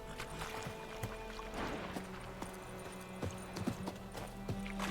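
Rhythmic hoof clip-clop from Roach, Geralt's horse in The Witcher 3: Wild Hunt, moving steadily over ground in a game scene, moderately close, with a faint whinny and low ambient noise.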